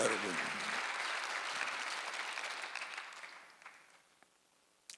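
A church congregation at a Sunday worship service bursts into dense applause that fades out over several seconds, with a voice speaking over it.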